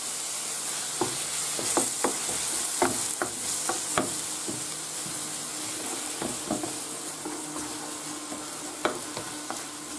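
Tomato tipped into a seafood paella pan, sizzling hard in hot oil while a utensil scrapes and stirs, with repeated sharp clacks and scrapes over a steady close frying hiss.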